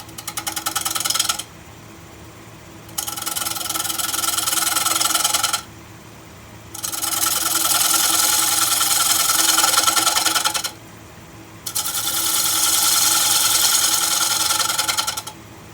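A wood lathe spins a camphor wood bowl while the tool makes cuts. Three long, loud bursts of rough scraping and whirring alternate with quieter gaps where only the steady motor hum remains, close and with no talking.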